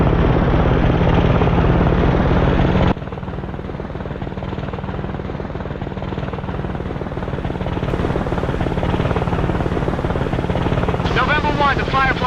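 Helicopter in the video game Arma Cold War Assault, a loud steady rotor and engine drone that drops to a lower cabin-interior hum partway through, with radio-style voices talking over it.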